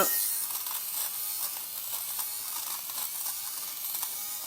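Steady, high-pitched buzzing of a small electric lint shaver gliding over fabric, close and continuous with slight wavering.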